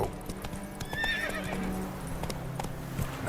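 Roach, a horse in The Witcher 3: Wild Hunt, gallops with rapid rhythmic hoofbeats clopping close by, a whinny rising partway through.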